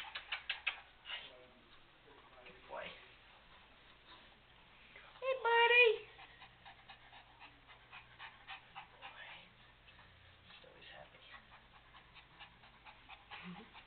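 A dog pants in quick, rhythmic breaths up close, with a brief whimpering burst midway and a person talking softly at times.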